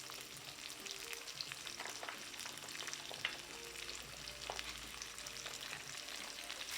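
Onions and zucchini fry in a pot, a steady broadband sizzle with crackles and occasional stirring clatter throughout, moderately loud with no voices.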